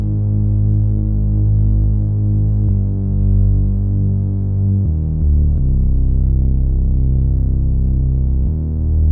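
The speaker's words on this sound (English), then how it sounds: "I use the classic saw bass played on 2 octaves, a little bit of filter, distortion," Classic synth saw bass played across two octaves, shaped with filter, distortion, EQ and flanger, pulsing steadily and loud with note changes every few seconds, no voices.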